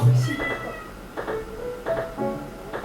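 A cat meows several times in short, separate calls spread across a few seconds, fairly close, over a soft background hum.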